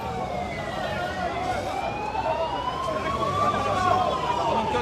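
An ambulance carrying a patient wails its siren near a hospital as it tries to pass a police blockade during a firefighters' protest, a rising and falling tone steady over crowd noise and voices.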